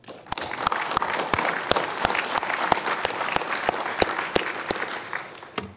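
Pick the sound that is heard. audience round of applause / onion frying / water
audience round of applause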